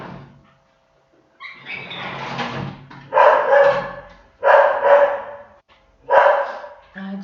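A pet dog named Frida lets out a string of loud, close barks in an indoor home setting, several sharp bursts spaced about a second apart after a brief quiet start.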